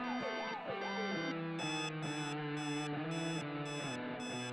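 Alarm clock ringing in the video game Sally Face, an electronic pattern of warbling tones followed by loud, evenly repeating beeps in a steady pulse.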